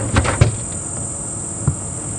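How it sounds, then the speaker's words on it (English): Cicadas at Djuma Game Reserve drone in a continuous, high, shrill buzz all around during an evening safari drive, with a few faint knocks underneath. "hear the cicadas that are calling all the way around us"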